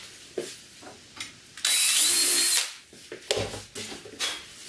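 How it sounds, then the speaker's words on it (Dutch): A power drill bores out holes for bicycle spoke nipples on a wooden bike, a single sustained whine of about one second amid handling clicks and taps, close and moderately loud. "Dus dat betekent dat die gaten even op moet boren."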